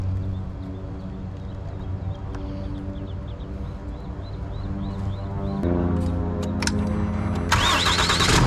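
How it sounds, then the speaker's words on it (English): A truck engine cranks and catches, then settles into a steady rumbling idle with a slight rise in loudness midway. It is fairly close, with a high whine and some clicks near the end. "then we're going to start the truck"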